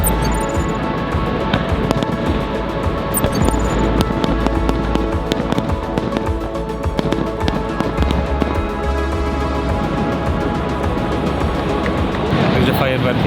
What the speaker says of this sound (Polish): Także fajerwerki nad wodospadem Niagara jak najbardziej wskazane.